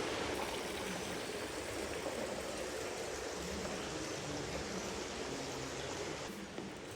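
Water from a fountain or channel in a room of the Alhambra flows in a steady, even rush, fairly close and continuous, with no voices over it.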